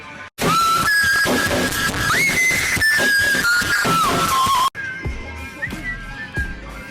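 Loud, continuous whistling with sliding pitch rises over a noisy, clattering street background in Paris, then continues more faintly after a sudden cut.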